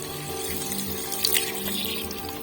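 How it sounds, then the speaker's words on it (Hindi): About a litre of water goes into a pot of browned chicken pieces for a thick aloo chicken shorba, a continuous hissing sizzle and bubbling close by with a brief louder splash midway and no talk. "अब हम इसमें तकरीबन 1 लीटर के करीब पानी ऐड करके इसका गाढ़ा सा शोरबा तैयार कर लेंगे।"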